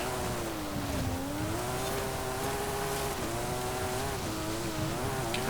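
A 1991 Nissan Figaro, modified with over 700 extra horsepower, drives offroad in Forza Horizon 5, its engine droning steadily at high revs with a wavering pitch, loud and continuous with no talk.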